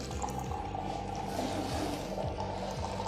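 An alkaline water machine dispensing 9.5 pH water runs a steady stream into a glass, a continuous soft pour with a faint mechanical hum beneath, no talking.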